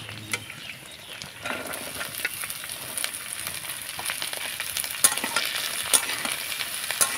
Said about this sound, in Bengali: একটুখানি নাড়াচাড়া করে আমি সবজিগুলোকে ভেজে নেব